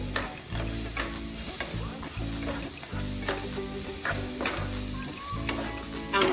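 Semolina and vegetables roasting in a pan for Gujarati-style suji upma, with a steady sizzle broken by repeated scraping stir strokes, heard close over background music.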